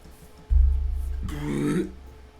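A loud, low, rumbling burp in the video game Wobbly Life rolls out for over a second, ending in a throaty grunt-like rasp.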